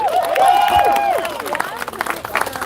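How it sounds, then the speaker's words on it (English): A crowd at an outdoor evening vigil outside the GEO ICE detention center in Aurora, Colorado claps and cheers, with whistles and raised voices mixed into the steady applause before it thins out. "Another round of applause for Christina."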